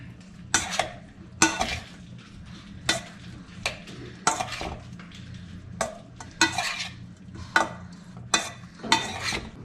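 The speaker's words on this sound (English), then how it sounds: "So I'm going to mix this together." Utensils stirring a tomato, fresh mozzarella and basil salad dressed with balsamic vinegar in a bowl, a series of close scraping and tossing strokes in uneven bursts, with no talk.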